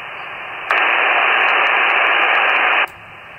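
Icom 7300 ham radio receiving with noise reduction off, a loud, steady band of hiss that cuts in abruptly, holds for about two seconds, then drops back to a softer background noise.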